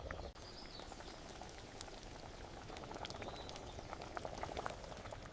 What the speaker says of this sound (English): This needs to simmer just a little bit longer.